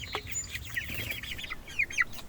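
Young meat chickens in a mobile tractor give soft clucks and chirpy, rising peeps over a low background hum, several birds calling close by in a loose, overlapping chatter.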